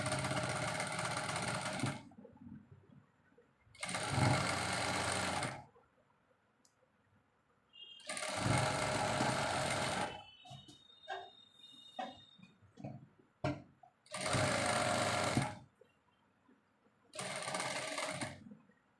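A sewing machine stitches a folded vest armhole in several short bursts of fast, even whirring, separated by quiet pauses with small clicks and handling noises.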